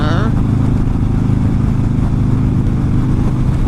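Motorcycle riding down a highway at around 80 miles an hour, a loud, steady engine drone mixed with heavy wind rush, constant and close throughout.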